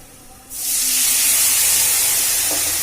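Wet spice paste stirred into water hits hot oil with ginger in a pan while cooking spiced chickpeas, bursting into a loud, sustained sizzling hiss that starts suddenly and holds steady close by.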